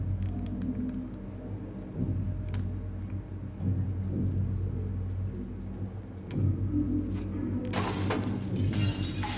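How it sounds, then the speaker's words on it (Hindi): Glass shatters in the video game Little Nightmares, a sudden bright crash near the end, preceded by a low rumbling ambience with scattered faint clinks. "शीशा तोड़ो।"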